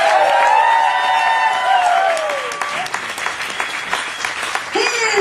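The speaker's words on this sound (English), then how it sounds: "applause, please, for Matthew Martin" Drag show audience breaking into loud, continuous applause with some cheering and whoops, a dense wash of clapping close by throughout, with an announcer's voice over it.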